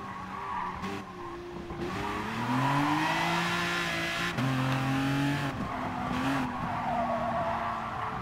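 An Aston Martin DBR9 GT1 race car in Gran Turismo Sport laps the Nurburgring Grand Prix circuit, its engine droning and rising and falling through gear changes while tires squeal in long skids, steady and close throughout.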